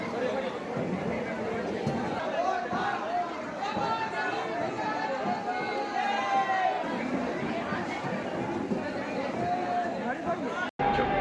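A mixed crowd of Shiva devotees and kanwariyas gathered at a temple during Sawan, a steady babble of many overlapping voices and chatter, with footsteps and movement beneath the hubbub.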